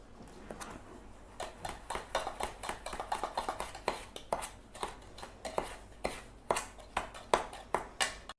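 A utensil stirs a salt mixture in a container, making a run of light, rhythmic clinks and scrapes, close and fairly quiet, with no voices.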